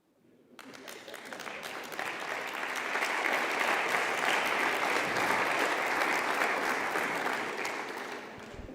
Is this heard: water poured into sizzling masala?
no